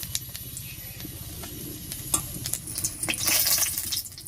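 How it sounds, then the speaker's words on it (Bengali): Black cumin and a few dried chilies sizzle in hot oil, a soft, steady crackle with light stirring and clinks from the pan. "তেলের উপর প্রথমে দিয়ে দিচ্ছি কালো জিরা, দেব 2-3টে মতো শুকনো লঙ্কা"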